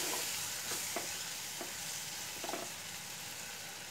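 Masala with tomato puree frying for veg keema, a steady close sizzle with a few sharp scrapes and knocks of a spoon stirring the pan.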